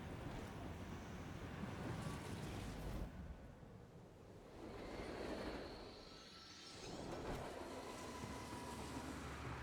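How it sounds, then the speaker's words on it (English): A train crash-landing after flying through the air in a video game, a low rumbling roar that rises and falls in several surges at fairly low volume. "Oh, that is a train in flight?"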